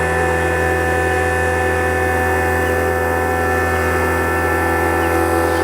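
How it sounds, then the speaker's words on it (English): A vacuum pump on a refrigeration system runs with a steady, loud, close mechanical hum and drone, even and unbroken, with no talk. "we'll go ahead and start the pump."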